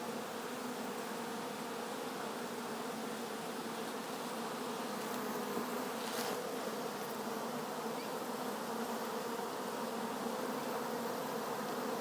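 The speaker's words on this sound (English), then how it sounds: "They all seem to be on the outside of the box. Look at them all flying around." Dense, steady buzzing of a honey bee swarm flying around and outside a hive box, loud and continuous throughout with no talking.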